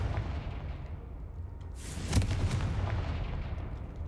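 Confringo blast spell in Hogwarts Legacy, a single explosive boom bursting out over steady background game ambience, then fading away.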